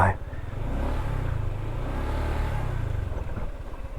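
A motorcycle engine drones steadily while being ridden along a rough road toward a mountain in Ramon, Isabela, close and continuous with slight throttle variation.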